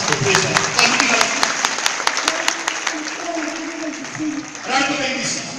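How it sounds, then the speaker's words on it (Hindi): A church congregation at a River of Faith Ministries service bursts into loud applause, dense clapping that gradually thins before a short spoken phrase and a fresh swell near the end. "जोरदार ताली"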